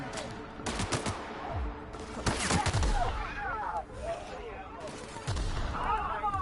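Gunfire from a firefight in The Outer Worlds: bursts of rapid shots and heavier blasts roll through a dense, busy battle mix, loud and continuous, with the shooting coming in waves.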